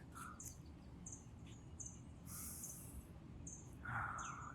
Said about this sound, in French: Tout ce que tu entends, les oiseaux, la mer, peut-être d'autres sons